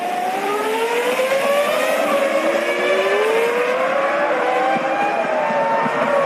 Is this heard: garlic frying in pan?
no